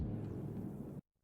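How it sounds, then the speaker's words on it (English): A deep, rumbling whoosh with heavy low-end roars for about a second, then cuts off abruptly into silence. "I added this like rocket powered sound"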